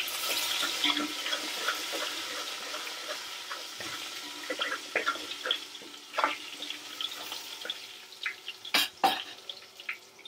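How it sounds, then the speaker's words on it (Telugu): Water splashes and trickles steadily as it is poured off soaked rice, with a few sharper pours and drips toward the end, close by and fairly quiet. "ఇప్పుడు రైస్లో ఉన్న వాటర్ మనం పోసేసుకుందాం."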